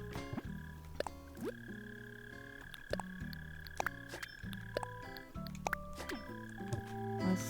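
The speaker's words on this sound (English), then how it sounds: "Is that a frog? Do I hear a frog?" In the Animal Crossing video game, a frog croaks in short, repeated calls over quiet background game music.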